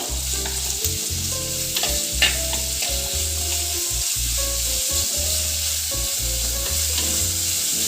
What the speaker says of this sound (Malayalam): ഈ ഉള്ളി വഴന്ന് വരാൻ മാത്രം ആവശ്യമായ ഉപ്പ് നമുക്ക് ചേർക്കാം